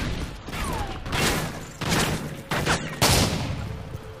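AK rifle fire in Modern Warfare 3 comes in several short, loud bursts separated by brief pauses, with mechanical clatter between them.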